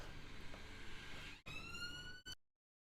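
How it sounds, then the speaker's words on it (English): Wailing emergency sirens from outside, a steady rising and falling tone that gives way to clearer sweeping pitches, fairly loud and unbroken, then cutting off abruptly into silence. "the sirens are going too"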